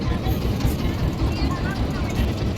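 A trawler boat's engine at Dublar Char in the Sundarbans gives a loud, steady, close-up rumble that drones without break, with faint voices mixed in.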